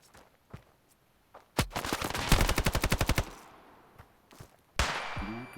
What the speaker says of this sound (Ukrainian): Це кулемет.